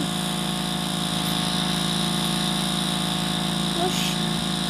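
Steady buzzing drone motor from a Roblox video game, holding an even loud hum throughout with no break.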